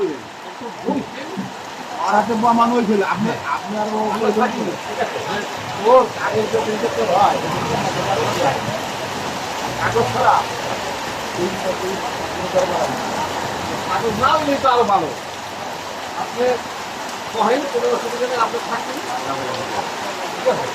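Heavy torrential rain pours on the Dhaka-Barishal highway near the Sadar bridge in Madaripur, a constant wash of hiss and patter beneath someone talking throughout.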